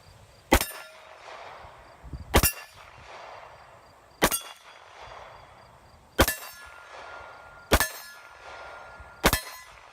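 Six sharp pistol shots from a CZ-75 SP-01 handgun, fired one at a time at an uneven pace of roughly two seconds apart. Each report is loud and ringing, with a short echo trailing off, and no voices are heard.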